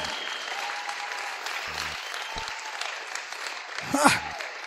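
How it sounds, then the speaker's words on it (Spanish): A church congregation claps during a Spanish-language sermon, a moderate, continuous patter of hands with a preacher's voice and a loud exclamation rising over it near the end. "Aplauda al Señor fuerte."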